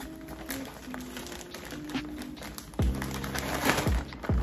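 A plastic bag crinkles while a wig is packed into it, soft rustling and crinkling with a few light taps, fairly quiet and close, over a faint musical background.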